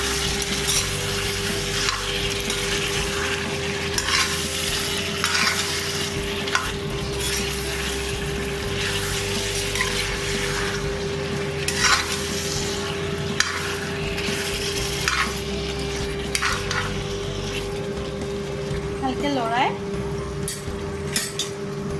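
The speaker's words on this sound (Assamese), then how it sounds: "এয়া কাটি থোৱা আলু আৰু অমিতা এইখিনি দি দিলোঁ। দি ভালকৈ লৰাই" Assamese duck curry with chopped potatoes stirred in a pan, repeated scraping and clinking of a utensil over a steady sizzle and a constant hum.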